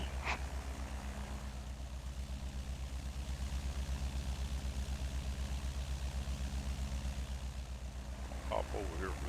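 A small propeller airplane's engine drones steadily in flight over Hawaii, a loud, constant low throb with a pulsing buzz heard from inside the cabin, with faint brief sounds near the start and end.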